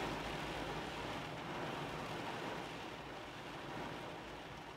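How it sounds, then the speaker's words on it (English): Steady rain drums on a roof, a dense even wash of patter heard from indoors with no voices. "That is the noise of rain hitting the roof."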